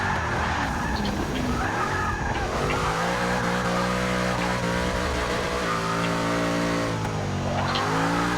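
Heavy van in Forza Motorsport 6 with a wheelie tune, its engine revving loud and continuous while tyres skid and squeal as it slides wide onto grass, droning steadily throughout.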